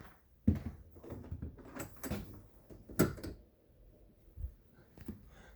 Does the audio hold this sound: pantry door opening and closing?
yes